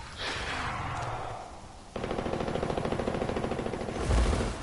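Rapid automatic gunfire in the Apex Legends shooter game, starting abruptly and continuing as a steady fast burst of shots to the end, preceded by a rushing whoosh.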